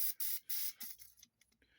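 Cheap aerosol lubricant is sprayed onto a rusty brake bleeder on a Kawasaki ZRX 1100 in two short, sharp hissing bursts, followed by fainter sputters and quiet handling noise.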